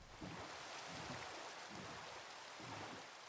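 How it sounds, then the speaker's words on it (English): Steady soft rain falls in the video game Minecraft, a quiet, even hiss of drops with faint low rumbles and no voices. "I know it's raining"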